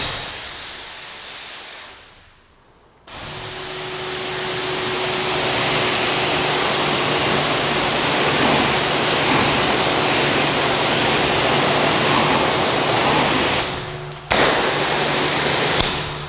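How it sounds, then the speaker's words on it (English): A water spray rinses car shampoo off a car's paintwork, a loud, steady hiss that starts after a brief pause, runs continuously, and breaks off once near the end. "we're gonna rinse off the product from the surface"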